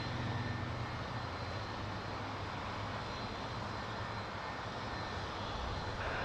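An Icelandair Boeing 757 in a 100-years-independence livery at Toronto Pearson Airport gives off a steady, broad jet engine roar at a distance, holding an even level with no voices.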